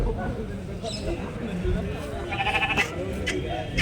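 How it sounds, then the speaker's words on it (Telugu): Sheep bleat in short wavering calls over a busy crowd of voices at a weekly livestock market in Kadiri, several animals calling nearby amid steady background chatter. "గొర్రెలు ఉన్నాయి గొర్రెలు"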